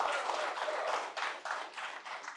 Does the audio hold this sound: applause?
yes